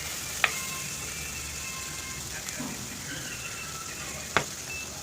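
Long-sliced shallots sauté in a pan with a soft, steady sizzle, broken by two sharp clacks of a utensil, quiet and close.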